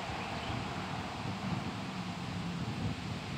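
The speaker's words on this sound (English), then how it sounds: "this wind, it really blows" Wind gusts buffet an outdoor microphone that is partly muffled by a towel, producing a steady, loud, rumbling roar with no letup across the whole stretch.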